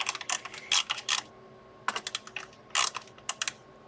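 Small plastic power switches on a Huina 1568 articulated RC dump truck click sharply in quick bursts, close and crisp, with short pauses between the groups of clicks.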